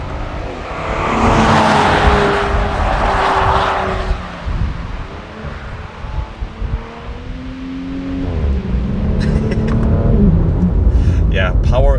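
An Audi RS5 with a 2.9-liter twin-turbocharged V6 making 639 horsepower drives an alpine road. The engine note rises and falls loudly through gear changes and revs, with wind noise and cabin rumble.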